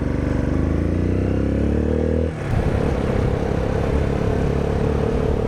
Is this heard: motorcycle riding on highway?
yes